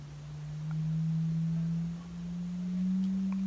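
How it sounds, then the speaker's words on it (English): A steady low sine-wave tone hums continuously, its pitch drifting slightly upward, with faint background noise and a brief dip in level midway. "in here I can hear the sine wave at the same level"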